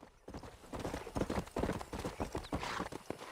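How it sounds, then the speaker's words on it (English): Horse hooves in Red Dead Redemption: a clear run of clip-clopping hoofbeats close by in an uneven trotting rhythm, loud and steady, with no talk. "Tem outro cavalo aí."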